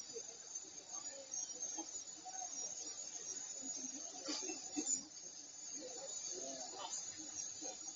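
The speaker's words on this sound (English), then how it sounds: "the noise you hear in the background is the cicadas." Cicadas in the Borneo jungle near Deer Cave keep up a steady high-pitched buzzing drone throughout, moderately loud and constant, with a few faint lower chirps and rustles beneath.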